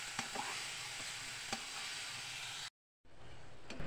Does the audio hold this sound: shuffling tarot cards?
no